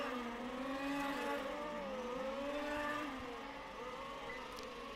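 Race cars at a club race car series event roar through the track corners, engines rising and falling in pitch as they brake and accelerate in a steady, loud, continuous drone with no talk.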